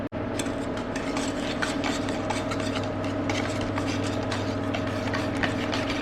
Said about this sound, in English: To these eggs, we're gonna add 125 grams of caster sugar, 126 grams of caster sugar, and mix it well.